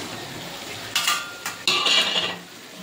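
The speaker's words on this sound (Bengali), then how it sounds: "ভেজে রাখা আলুটা এবার দিয়ে দেবো" Fried potatoes tipped into a pan of spiced fish curry masala and stirred, a few clattering scrapes of a spoon against the pan over a low sizzle.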